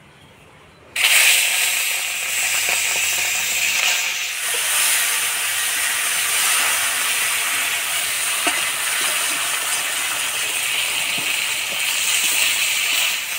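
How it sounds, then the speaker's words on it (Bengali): Prawns frying in hot oil in a pan: a loud, steady sizzling hiss that bursts in suddenly and holds for over ten seconds, with faint stirring clinks beneath and no talking. "চিংড়ি মাছগুলো প্রথমে ভাজে নিব।"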